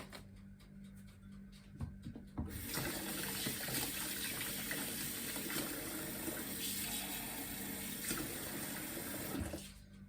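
Water pours steadily into cupcake batter in a continuous gushing stream for several seconds, starting and stopping abruptly, close by with no talking.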